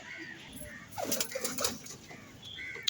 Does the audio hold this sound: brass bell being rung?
no